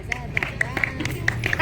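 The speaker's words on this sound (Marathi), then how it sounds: "टाळ्या वाजवा, टाळ्या त्याच्यासाठी." An audience at a school fancy dress competition claps in scattered, uneven bursts, a crowd of hands pattering over a murmur of voices in the hall.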